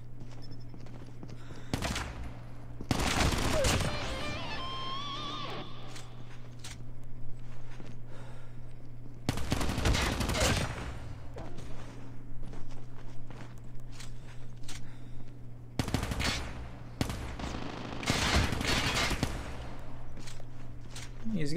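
Gunfire in the Call of Duty Mobile Gulag mode comes in several sharp bursts, loud and close, separated by quieter stretches with footsteps and a steady low game hum beneath.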